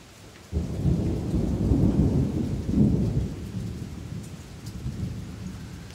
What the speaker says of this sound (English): just listen for a couple seconds and there'll be a ton of thunder